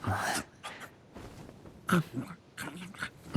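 A dog from the video game Genshin Impact makes short yips, whimpers and barks in several separate bursts, fairly close and clear, with quiet gaps between.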